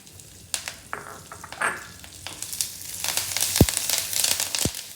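Garlic and curry leaves frying in a pan for South Indian pepper rasam, a steady soft sizzle and crackle with light stirring and scraping, close and fairly quiet, no voices.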